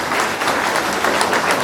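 Audience applause for the poet Ram Bhadawar at a Hindi poetry recital, a dense, steady wash of many hands clapping together, loud and continuous with no voices over it.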